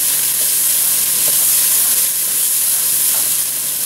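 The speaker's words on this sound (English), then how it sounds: "You got these onions sauteed in there." Chopped onions sautéing in a pan for chili with beans give a steady, close sizzle and hiss that runs unbroken throughout, with a few faint scrapes from a wooden spatula.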